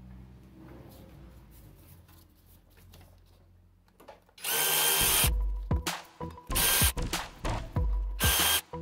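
Power tool spinning out 10mm bolts from the water pump pulley of a 2002 Oldsmobile Silhouette: quiet rattling first, then loud close bursts of drilling with short pauses between them.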